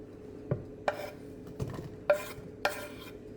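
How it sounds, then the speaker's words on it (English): Onion cooking in a pan for chicken satay, heard as a soft sizzle broken by five sharp stirring scrapes and clinks against the pan at a slow, uneven rhythm, close and quiet. "So I will cook the onion."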